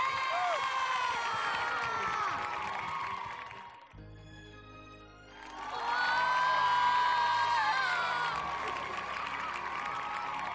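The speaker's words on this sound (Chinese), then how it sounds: "让我们掌声欢迎赵忠祥老师。" A studio audience at a variety show bursts into loud applause and cheering to welcome a guest, drops briefly under a musical sting, then swells again.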